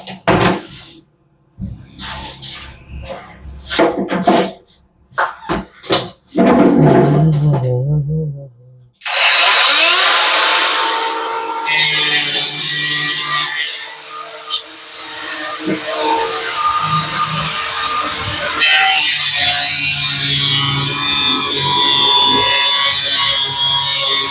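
An angle grinder fitted with a stone disc cuts on a ceiling construction job, a loud harsh whine that starts, drops out and restarts in long bursts after a stretch of knocking and handling noises, with people talking.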